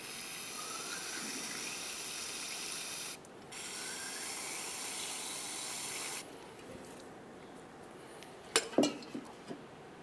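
Water sprays steadily in a continuous hiss over front brake parts from a 2009-2010 Pontiac Vibe, pausing briefly and changing tone before stopping, followed by a few light metallic clinks of parts being handled.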